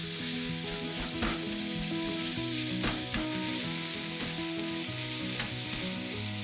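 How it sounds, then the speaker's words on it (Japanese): Ground chicken stir-fried over medium heat in a frying pan with olive oil, a steady loud sizzle punctuated by a few soft scrapes of stirring, with no voices. "鶏ひき肉を加えて中火で炒めます。"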